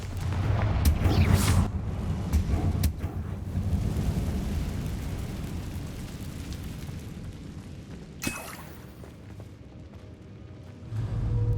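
A Confringo fire spell explodes in Hogwarts Legacy with a heavy, rumbling blast that fades into a long, low roar, followed later by a second sharp crack and a swelling boom near the end; no talking.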